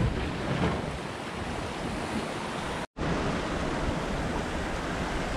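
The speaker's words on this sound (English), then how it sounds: "Flying along downwind, doing 7 to 10 knots, depending on which wave we're going down." Waves rush around a Hallberg-Rassy 54 sailing yacht running downwind at speed, a constant loud wash of surf and wind noise with a brief dropout midway.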